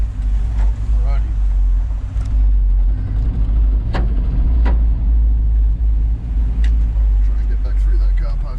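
Ford F350 truck with a 302 Cleveland V8 driving, a steady loud low engine drone and road rumble throughout, with people talking inside the cab over it.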